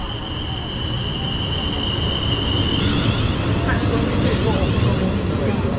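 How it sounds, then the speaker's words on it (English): A South Western Railway train rumbles into a station platform on the Southampton to Lymington route with a steady roar, high wheel squeal and screeching brakes, loud and close throughout. "this is our train arriving in"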